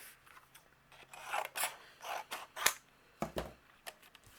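Several short snips and rasps of scissors trimming a large sheet of white cardstock, close and quiet, in uneven bursts with small pauses between cuts.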